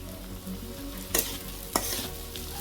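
Chopped green chilies and mixed fish fry in a pan over a clay stove, a steady close sizzle broken by two sharp bursts of spattering as ingredients hit the hot oil, with occasional stirring scrapes.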